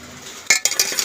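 Large metal mixing bowl handled in a home kitchen while food is being mixed, a few sharp clanks and clinks in quick succession, close and fairly loud after a quiet start.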